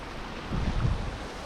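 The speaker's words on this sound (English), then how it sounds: "Literally a waterfall, but so I've got to get across here basically and follow it down this bank." Water pouring down a wooded bank from a small waterfall gives a steady outdoor rush with a slight swell in the middle, close to the microphone, with some wind noise.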